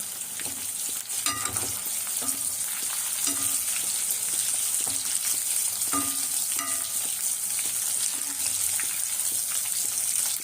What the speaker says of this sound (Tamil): சிக்கன் பொரிச்சாச்சு கொஞ்சம் கொஞ்சமாக தான்